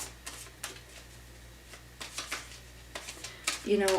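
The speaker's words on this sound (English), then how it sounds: "Every time I shuffle these cards, every one of them wants to fly out." Quick papery riffles and soft slaps of tarot cards being shuffled, in short bursts with brief pauses, close by.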